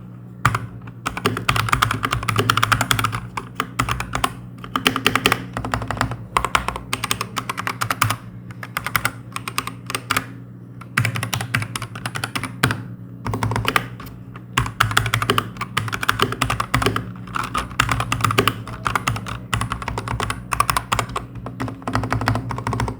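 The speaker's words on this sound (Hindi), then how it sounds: "एंड इस कीबोर्ड का sound feel a little on the थॉकी side." Typing on a Redragon Trundle K668 full-size hot-swappable mechanical keyboard fitted with 3.5 mm sound-absorbing foam, giving a soft, thocky tone. A steady stream of close, fast keystrokes continues alone throughout.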